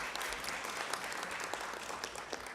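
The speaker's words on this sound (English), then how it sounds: "we need to give the Media Center a round of applause" A crowd claps steadily, a dense wash of applause from many hands, fairly faint and continuous for the whole moment.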